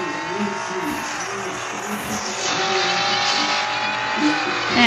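Engine roar from a Lightning McQueen racing game car, a steady loud buzzing whine that swells after the midpoint, with faint tire-squeal hints and a voice chatting over it.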